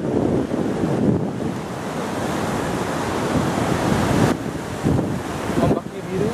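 Ocean waves wash onto Legon Pari beach, a constant roaring surf with rolling swells and gusts of wind buffeting the microphone.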